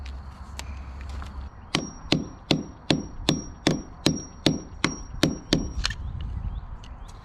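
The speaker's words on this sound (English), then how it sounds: "I'll grab something and knock that core loose and go again." A hardened Quikrete concrete core being knocked loose, about a dozen sharp, evenly spaced hammering knocks, close and loud, after a short low machine hum, with no speech.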